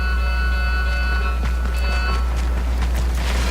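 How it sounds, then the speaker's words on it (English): Rapid electronic alarm beeping in the Warframe video game, steady repeating tones layered over a constant low engine-like hum, loud and continuous with faint clicks and bursts scattered through it. "the alarm is going crazy"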